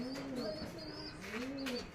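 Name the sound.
pigeons cooing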